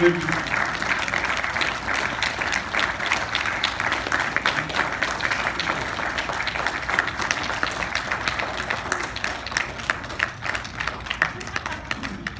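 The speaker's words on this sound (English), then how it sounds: "let's give a big round of applause" An audience at a campaign event for Gretchen Whitmer in Farmington Hills gives her a sustained round of applause, a dense wash of clapping from a sizable crowd lasting over twelve seconds with some cheering mixed in.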